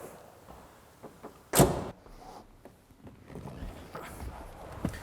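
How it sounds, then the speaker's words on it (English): A single solid thump of a Ferrari 328 GTB boot lid slamming shut, close by, followed by quieter shuffling and small knocks. "Let's shut the boot and get out there."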